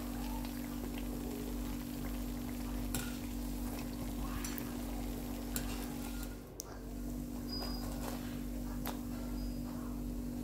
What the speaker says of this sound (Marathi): अशाच पद्धतीने मी आता सर्व खारी तळून घेणार आहे